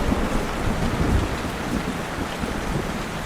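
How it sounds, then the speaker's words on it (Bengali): Heavy rain pours outside at night, a dense, continuous roar of downpour with a low rumbling undertone, steady and fairly loud with no voices. "বাহিরে তুমুল বৃষ্টি হচ্ছে"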